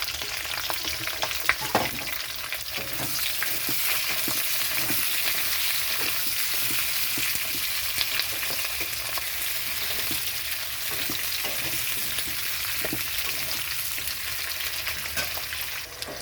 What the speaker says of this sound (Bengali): তো এখানে আমি ক্যাপসিকাম আর পেঁয়াজ দিয়ে দিচ্ছি।